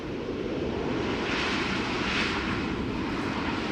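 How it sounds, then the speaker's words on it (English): A SunExpress passenger jet arrives on a runway at Schiphol Airport, heard as a steady, broad engine roar at a distance that swells slightly midway and holds without a break. "This is Sun Express going to the centered runway"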